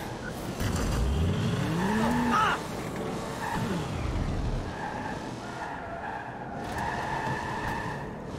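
Car wheels spin and skid in the Watch Dogs 2 video game, with a loud, rising tire squeal up close followed by further screeching slides over a steady engine drone.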